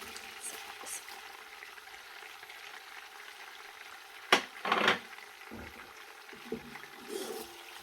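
Onions fry in melted butter, a soft, fairly quiet sizzle under a few louder bursts of stirring and pan clatter midway, with scattered small knocks.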